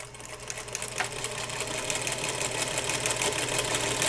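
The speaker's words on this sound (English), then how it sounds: "Let's just go ahead and sew this together." A sewing machine stitches quilt block pieces together. Its motor hums close and steadily, with a fine rapid needle clatter that grows slightly louder and stays unbroken throughout.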